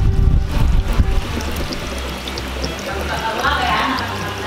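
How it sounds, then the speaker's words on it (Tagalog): Canned evaporated milk poured into a durian mixture, a loud, close, continuous liquid pour with low gurgling and splashing for several seconds and no talking. "ngayon, ilagay ko na po dito yung ating natirang isang lata ng evaporated milk"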